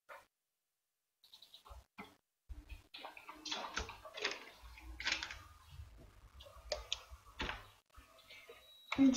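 Liquid splashes and trickles into a lab beaker in uneven bursts while 80 ml is measured for a homemade face tonic, close and fairly quiet, with small clinks and handling noises around it.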